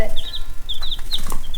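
Backyard chickens cluck in quick, high bursts at close range while pecking at food, with faint soft taps mixed in.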